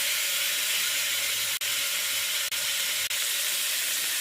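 Vegetables softening as they fry in a pot for a tomato chutney with field beans give a steady close hiss, like loud steam, broken by a few brief clicks.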